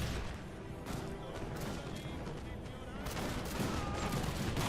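Highland Foot infantry fire massed musket volleys in the Napoleon: Total War game, a dense, continuous crackle of overlapping shots that swells louder near the end.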